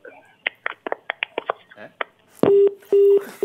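Telephone dialing tones during a live evening talk-show call-in, a run of short beeps followed by longer ringing tones, with voices talking around them.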